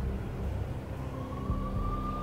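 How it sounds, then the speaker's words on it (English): Police sirens from the video game Max Payne wail faintly, one rising tone emerging over a heavy, steady rumble of traffic and engine noise. "I could hear the sirens. Their wail was a crescendo."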